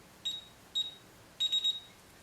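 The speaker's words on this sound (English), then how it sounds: "The keypad will beep after you enter all the digits." A DSC alarm keypad emits short, high electronic beeps: two single tones followed by a quick triple burst, clear and close against a quiet background.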